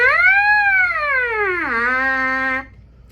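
A buzzing brass mouthpiece tone, played alone and loud, swells then slides down in pitch before holding steady and cutting off abruptly.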